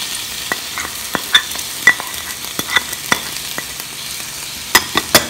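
Spices stirred into tomatoes in a hot frying pan for a chickpea and greens curry, a steady close sizzle broken by irregular sharp scrapes and clicks of the spoon against the pan.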